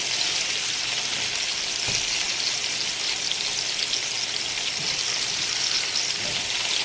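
Sausage with hot honey frying in a pan gives a steady, dense sizzle and crackle, fairly close and constant throughout, with a few faint soft knocks beneath it.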